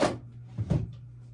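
A drawer in a makeup storage unit opens or closes with a short wooden knock, followed by a couple of softer bumps as an eyeshadow palette is moved about, close and fairly quiet.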